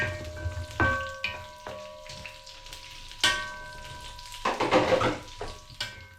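Beans hit a preheated pan and crackle in bursts, with utensil clinks, scraping stirs and a few ringing metallic taps. The sounds come close and uneven, with short quiet gaps between them.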